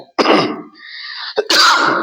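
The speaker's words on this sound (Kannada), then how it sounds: "ಈಗ ನನಗೆ ಕೆಮ್ಮು ಬರ್ತಾ ಇದೆ" A single harsh cough bursts out, followed by a rasping, drawn-out throaty sound and then a second loud cough, close and alone without speech.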